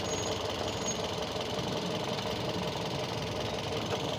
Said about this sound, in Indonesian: ini pas lagi sudah mulai idle ya mesinnya